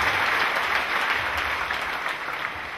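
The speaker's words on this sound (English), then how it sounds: "Clap our Lord Jesus Christ." A congregation claps together at a mass prayer service in Cameroon, a dense, steady wash of many hands sounding loud and close throughout, with no talking.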